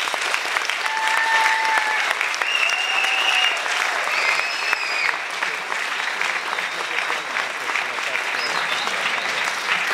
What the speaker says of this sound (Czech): A já poprosím pro 1, 2, 3, 4, 5 dívek, které nebudou oceněny, potlesk